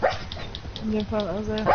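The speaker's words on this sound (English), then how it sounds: "That's my dog dreaming if anybody can hear that noise." A dog dreaming lets out muffled little barks and whimpering yips, faint and in the background, while someone speaks briefly over them.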